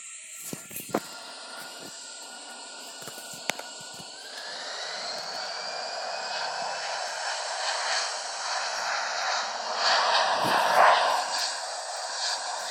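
Airplane engine in the Infinite Flight flight simulator, a steady whining drone with hiss that swells gradually louder, one pitch sliding slowly upward, with a few faint clicks early on.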